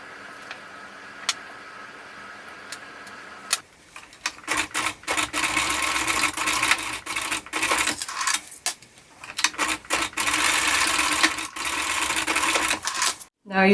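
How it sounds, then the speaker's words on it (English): A home sewing machine stitching through a clear vinyl zipper pouch, a quiet hum at first, then bursts of rapid mechanical clatter that start and stop several times, with a person speaking during the clip. "sew right along this fold to do stitch in the ditch to secure this back fabric"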